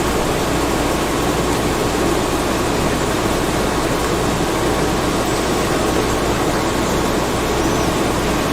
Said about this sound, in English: That noise there is the jets.